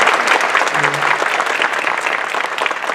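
Dense, steady applause from a large crowd at a business leaders' summit, loud and continuous throughout with no pauses.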